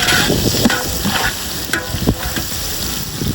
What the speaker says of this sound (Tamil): வெங்காயத்திலே போட்டுக்கணும். போட்டு நல்லா மிக்ஸ் பண்ணிடுங்க.